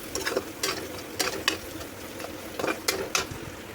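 Spices frying in a little oil in a pan, with close sizzling and a spoon scraping and stirring in short repeated bursts, and no talking.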